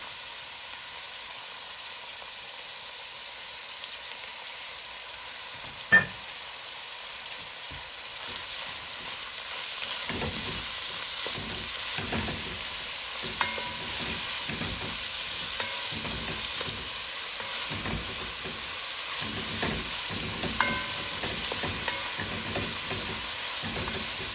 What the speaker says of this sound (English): some peppers, the remainder of the peppers, and the scallion. I'm going to just saute that for about 2 minutes.